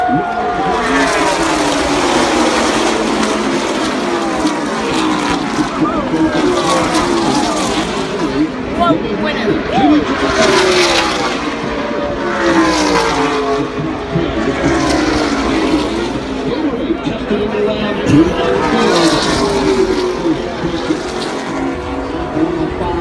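NASCAR stock cars roar around the Daytona 500 oval, engines surging and fading in repeated loud passes over a continuous crowd-and-engine din, with a commentator talking throughout.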